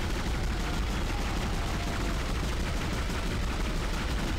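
Rapid, dense gunfire fills the whole stretch as a weapon is fired again and again at a monster in the Dead Space video game, a loud continuous barrage with no pauses.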